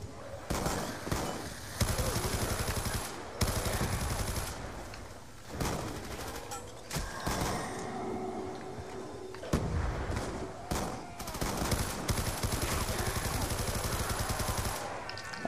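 Rapid bursts of gunfire from the Call of Duty zombies map Mob of the Dead, repeated volleys with brief gaps between them, loud and close, with a voice talking faintly now and then.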